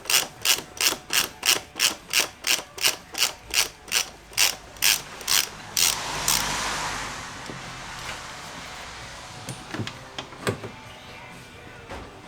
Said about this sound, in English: if you get a 27mm socket, I usually put an extension on there, just make it easy because it gets the ratchet up out of the way, and then you just undo it